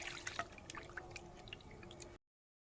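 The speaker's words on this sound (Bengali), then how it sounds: "একটু ডিমটাকে প্রথমে আমি ধুয়ে নিচ্ছি ভালো করে" Fish roe being washed in water, quiet close drips and small liquid splashes in quick succession before it cuts off abruptly.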